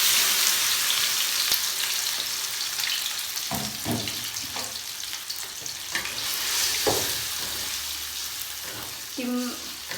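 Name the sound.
egg martabak batter frying in hot oil in a wok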